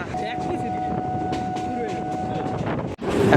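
A Kolkata Circular Railway train runs steadily along the line, a continuous rumbling roar with wind rush and a thin whine, dipping briefly near the end before surging again.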